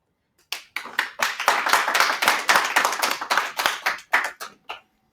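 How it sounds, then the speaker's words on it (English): A small group claps for a guest being introduced, a short burst of distinct, close handclaps that rises quickly and thins out after about four seconds. "Please give a warm round of applause for Mia Kawamitsu."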